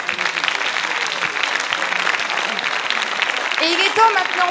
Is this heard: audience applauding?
yes